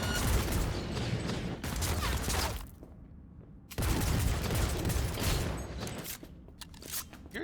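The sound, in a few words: gunfire in Cyberpunk 2077 video game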